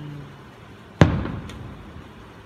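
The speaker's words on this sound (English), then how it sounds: "I'm just sitting here all night watching the fireworks." A single distant firework bang, one sharp burst followed by a fading rumbling tail, heard outdoors at night with a fainter pop shortly after.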